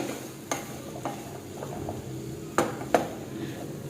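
Vegetables frying in ghee for a soya and spinach soup, a soft low sizzle broken by several sharp clinks and scrapes of a spoon stirring against the pan, no talk.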